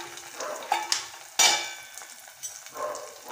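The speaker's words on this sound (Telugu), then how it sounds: "అల్లం వెల్లుల్లి పేస్ట్ పచ్చి వాసన పోయేంత వరకు వేయించుకోవాలి" Ginger garlic paste and chopped onion frying in a pan, a soft continuous sizzle broken by a few scrapes and taps from a stirring spoon, one sharp clatter partway through, and no voices.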